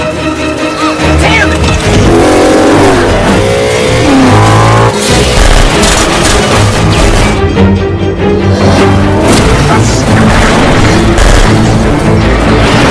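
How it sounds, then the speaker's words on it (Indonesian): A car chase from an action film along railway tracks, with loud roaring engines, revving and booming impacts layered over a dramatic soundtrack, continuous and close. "Dan aksi kejar-kejaran pun dimulai."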